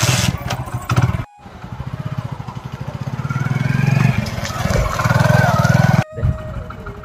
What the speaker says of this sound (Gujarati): તો પછી તમે જરાક બાઇક ચલાવો